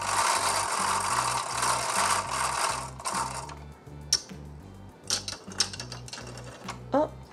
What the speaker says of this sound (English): take our handle or crank, pop it on, and we can spin them